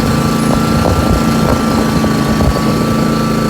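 A lawn mower engine runs steadily up close, a loud continuous droning rumble that holds constant throughout with no voices.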